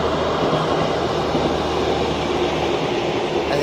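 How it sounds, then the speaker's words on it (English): A train rumbles past close by on the tracks, a steady loud roar of wheels and rail noise sustained throughout with no pauses. "It's important for people to remember there's a train coming."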